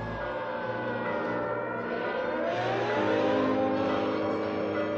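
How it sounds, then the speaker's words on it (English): Avraamov's Symphony of Sirens, a recording of city sirens, factory horns and vehicles, heard as sustained overlapping tones with wavering pitches and engine drone, steady and moderately loud throughout. "Avramov's Symphony of Sirens was an epic open-air spectacle where the orchestra was the noise of the city itself"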